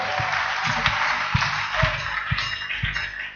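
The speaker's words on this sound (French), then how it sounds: "Applaudissons fort." Church congregation clapping loudly and continuously, with regular low thumps, likely a drum or rhythmic stomping, pulsing through the applause.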